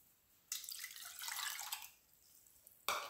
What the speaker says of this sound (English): Get a cup of water.